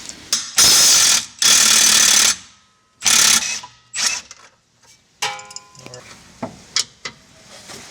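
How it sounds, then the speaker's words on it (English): A ratchet loosens bolts on the rear arms of a Nissan S13 for a toe adjustment, giving several loud bursts of rapid clicking with short pauses between them, followed by lighter metallic clinks and taps. "You gotta loosen this bolt, loosen the bolt back there, and then loosen these 2 bolts for the toe adjustment"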